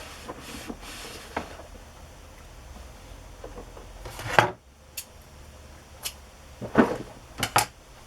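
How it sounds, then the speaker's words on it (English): A drawer in a stacked unit of drawers is pulled open beside a crafting desk, producing a few sharp wooden knocks and scraping slides, loud and close, spaced between quieter rustling. "Couldn't close my drawer once I got it open."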